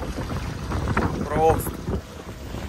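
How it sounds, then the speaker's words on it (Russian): Gusty wind buffets the microphone aboard a catamaran out on the water, rising and falling in strong blasts. A person briefly says a word partway through. "И надеемся спрятаться от этого ветра."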